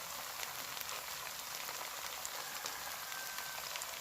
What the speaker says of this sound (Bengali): রসুন বাটা, আদা বাটা দিয়ে দিলাম, ভেজে নিই